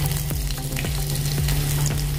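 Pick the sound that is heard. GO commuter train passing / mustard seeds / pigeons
mustard seeds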